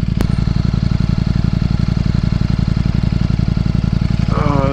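Ducati Streetfighter V4 motorcycle running nearby with a loud, rapid, evenly pulsing engine throb. A short sharp click comes near the start, and a voice begins right at the end.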